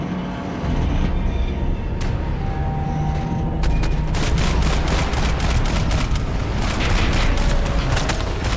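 Gunfire in the video game Max Payne 3, dense loud bursts of shots and booms layered over a heavy roaring background, with rapid repeated cracks building in intensity and no talk.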